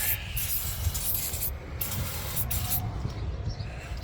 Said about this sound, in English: of releasing spray around that disc